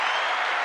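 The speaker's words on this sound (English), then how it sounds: "Gratuitous use of the applause button" Short burst of canned applause triggered from an applause button, a dense, steady clatter of many hands filling the whole moment at even loudness.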